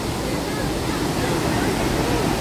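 Dassam Waterfall near Ranchi in full flood, a torrent of muddy red water roaring as a dense, continuous broadband rush that fills the whole stretch.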